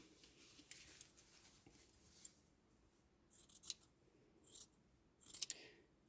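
Scissors snip out fabric pieces for a ladybird craft, making several quiet, crisp cuts in irregular bursts, close up and without talk.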